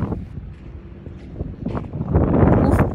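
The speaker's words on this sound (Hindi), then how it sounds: "इतनी तेज़ हवाएं, इतनी तेज़ हवाएं, ऑब्वियसली सी में ऐसा ही होता है" Strong wind at a beach on the Al Khobar corniche, Saudi Arabia, buffets the microphone in low, roaring gusts that swell louder toward the end, with no other clear sounds.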